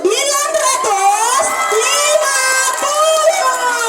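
A crowd of children at an elementary school quiz competition final cheers and shouts loudly together, a bright, excited roar lasting a few seconds.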